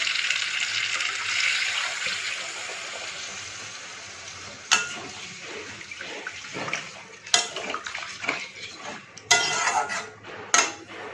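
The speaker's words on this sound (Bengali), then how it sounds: "এবার আমি জল দিয়ে দেবো।" Water is poured into a pan of potato curry lightly fried with mustard, starting as a loud rushing splash and sizzle that fades, followed by several sharp clinks and scrapes of a utensil against the pan.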